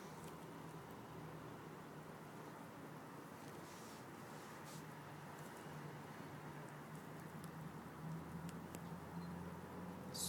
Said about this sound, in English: Still raining, but not as bad as it was.